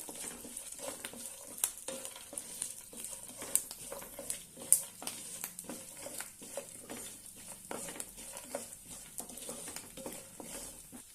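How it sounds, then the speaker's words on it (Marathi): Urad dal and peanuts sautéed in oil for South Indian lemon rice, a quiet, continuous crackle and patter with scattered stirring scrapes, close and fairly soft. "छानपैकी तेलावर परतून घेऊया।"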